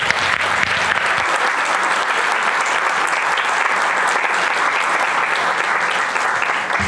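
A panel audience at an institutional-democracy forum breaks into steady, dense applause after a speech, a continuous wash of clapping that holds at full strength throughout and never fades.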